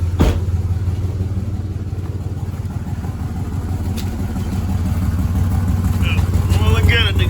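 A Chevrolet S-10 engine with an exhaust delete idles loud and close, running rough with an uneven, stumbling pulse and rattly clatter; a voice speaks briefly over it near the end.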